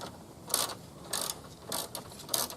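A ratchet wrench clicks in four evenly spaced bursts of rapid pawl ticks while tightening a car battery hold-down, close up and crisp against a quiet background.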